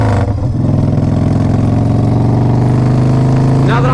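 A 1994 Harley Davidson Fat Boy engine is revved with the throttle, a loud, steady low-pitched rumble with a brief rising swell near the start and a faint voice late in the clip.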